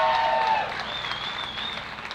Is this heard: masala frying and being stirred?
no